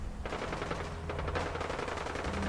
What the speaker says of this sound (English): there's a bit of shooting going on somewhere. I can hear it.